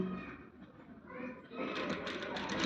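A sewing machine runs steadily, stitching invisible thread piping on fabric, its motor whirring faintly and growing a little louder near the end.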